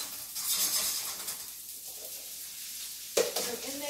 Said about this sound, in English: So in go the mushrooms.